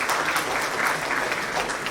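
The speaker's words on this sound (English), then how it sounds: "Come on, you've got to give a round of applause for that." Audience applause from a seated crowd, a steady dense patter of many hands clapping close and loud throughout, with no voices over it.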